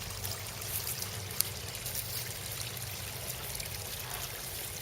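Water trickles steadily into a backyard koi pond beside a patio, a constant soft splashing wash with a low rumble beneath, even and unbroken throughout, with no voices.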